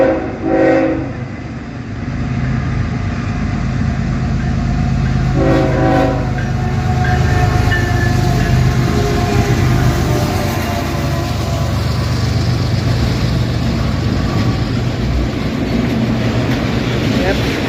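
A CSX autorack freight train passes Dorsey Station, its horn sounding in two blasts near the start, followed by a long, loud, steady rumble and clatter of rail cars rolling close by.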